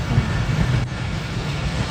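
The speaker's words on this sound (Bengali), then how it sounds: "ট্রেন যাচ্ছে না?" Steady low rumble of a train rolling past, with a continuous broadband roar and no voices.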